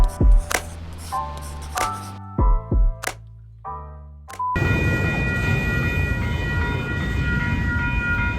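A train passes close by at sunrise, its steady, loud rumble and grinding roar rising suddenly and then holding, with sustained tonal whines above it. A few sharp knocks and brief bursts come first.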